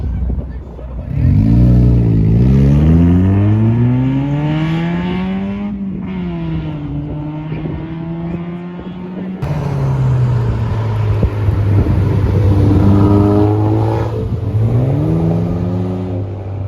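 Cars leave a cars and coffee meet in Warwick, Rhode Island, their engines revving loudly with rising and falling pitch as two vehicles accelerate away one after another, with people talking nearby.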